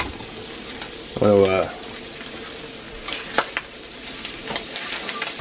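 Sausage sizzles and fries in a cast iron pan, a steady crackling hiss running through the whole stretch, with a few scrapes as it is stirred and a brief voice speaking over it.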